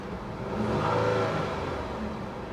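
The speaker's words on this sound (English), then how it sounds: "I'm only revving it to about 3 grand." A Hummer H3 engine heard from a short distance revs up to about 3000 rpm and drops back, a single smooth rise and fall under a steady low rumble, with no talking.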